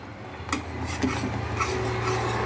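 Kavuni rice and black urad flour being stirred in a pan over low heat, a steady scraping and rubbing with a few sharp clinks of the spoon against the metal, close and moderately loud, no talking.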